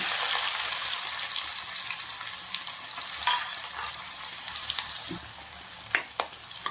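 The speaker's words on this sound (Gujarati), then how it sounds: "થોડી ડુંગળીને શેકી લેશું" Onion frying in a pan with coconut, asafoetida and garlic for a taro and moong dal snack: a continuous close sizzle with scattered crackles and a few spatula taps toward the end, no talking.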